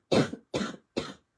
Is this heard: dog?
no